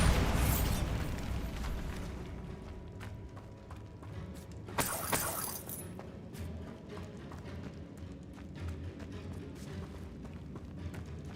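A Bombarda blasting spell goes off in Hogwarts Legacy, a single bright burst with a sharp crackling shatter near the middle, over a dense, rumbling game ambience.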